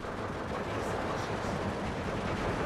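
Machine gun fire in the WW2 strategy game Steel Division 2, a dense continuous crackle of gunfire filling the scene at steady loudness with no clear pauses.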